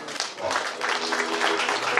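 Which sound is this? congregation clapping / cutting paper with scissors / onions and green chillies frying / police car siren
congregation clapping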